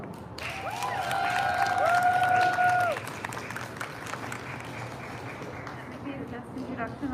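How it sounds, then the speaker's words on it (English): Crowd applause at an outdoor girls' rally at the Connecticut State Capitol, welcoming a state representative: steady, fairly loud clapping with some cheering for about three seconds, then fading into a lower crowd murmur. "please join me in giving a round of warm applause"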